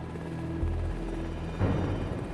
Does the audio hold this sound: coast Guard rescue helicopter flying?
yes